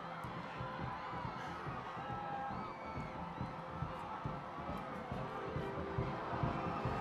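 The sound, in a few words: crowd cheering for Pope Francis motorcade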